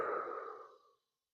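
A single soft exhale comes close up during a seated back-leaning hip stretch. The breath fades out within a second.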